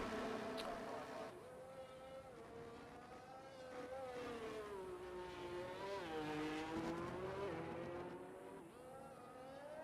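Formula 1 race car in a video game leaving the pit lane at Abu Dhabi: a steady high engine whine rising and falling in pitch, continuous and moderately loud for about ten seconds, with no talk.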